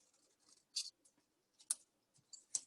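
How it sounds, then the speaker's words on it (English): Scissors cutting card paper, a few short crisp snips spaced apart against near silence, faint and close. "hold the scissor and we will start cutting on this line"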